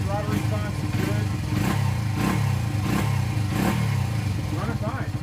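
A Honda XR80 motorcycle fitted with a Chinese PZ20 carburetor runs steadily up close, its engine note pulsing in a regular rhythm with periodic throttle blips, continuous through the whole stretch.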